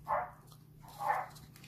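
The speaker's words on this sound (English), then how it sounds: "Apologies if you can hear next door's dog barking." A dog next door gives two separate barks, about a second apart, muffled and moderately distant in an otherwise quiet indoor space.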